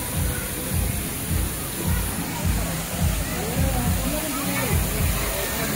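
Steady rushing water at a waterfall picnic spot on a hot day, a broad continuous wash of noise heard close, with people talking over it throughout.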